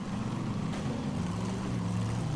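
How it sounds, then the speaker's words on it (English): Old Dodge and Chevy trucks straining through mud in the SpinTires video game, a continuous low engine roar and drone held steady throughout, loud and close, with no talk. "you guys can hear the engines roaring, and it's definitely having some trouble trying to get through this"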